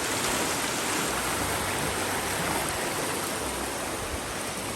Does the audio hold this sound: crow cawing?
no